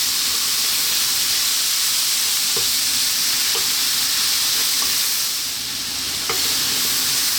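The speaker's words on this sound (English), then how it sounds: "we've been stir frying on a very high heat all the way so far" Cabbage and egg stir-fry sizzles over very high heat, a dense, steady hiss close by, broken by a few light clinks of a utensil against the pan.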